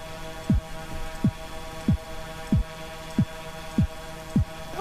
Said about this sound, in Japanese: ルーナイトが目の前にいた時の心音